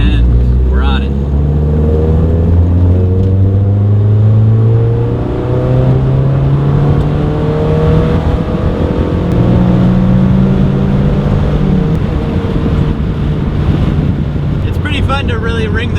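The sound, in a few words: NC Mazda Miata with 2.5 swap driven hard, revving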